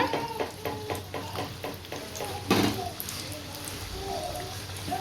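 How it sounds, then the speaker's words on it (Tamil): Potato snacks fry in oil over a medium flame with a close, steady bubbling sizzle, joined by a rhythmic series of stirring scrapes and a brief louder splash as more pieces go in, with someone talking over it. "இப்போ நம்ம மீதி இருக்கிறதையும் போட்டு பொறிச்சு எடுத்துப்போம் சொன்ன மாதிரி மிதமான தீலே வச்சுக்கோங்க"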